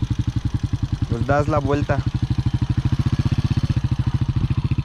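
A motorcycle engine idles close by on a sandy road in Mexico, a steady and rapid rhythmic thumping that keeps going throughout. A person briefly speaks over the engine partway through.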